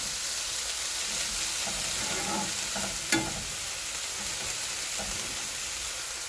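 Mushrooms for an omelette fry in a pan with a steady close sizzle, broken by a few soft scraping stirs and one sharp tap.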